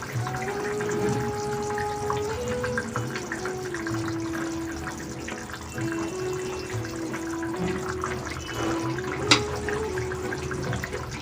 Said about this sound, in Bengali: এটা চিনির রস ছিল আমার কাছে তাই দিচ্ছি